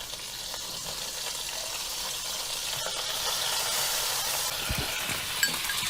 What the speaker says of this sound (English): I do like the sizzling noises though.